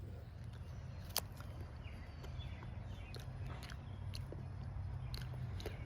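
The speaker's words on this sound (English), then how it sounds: "This is some kind of romaine lettuce, it looks like. Let's see what it tastes like." Crisp romaine lettuce leaves bitten into in a garden, a few sharp crunchy bites followed by soft chewing, close up over a steady low outdoor rumble.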